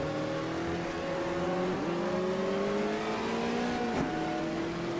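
Racing car engine in Automobilista 2, a Beetle racing at Curvelo, revving up steadily with rising engine pitch and a brief shift dip midway, loud and continuous with no talk.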